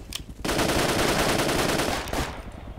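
Sustained automatic weapon fire in the military shooter game Project Reality, a dense loud burst of rapid shots lasting about two seconds after a brief quieter start, with scattered shots trailing off.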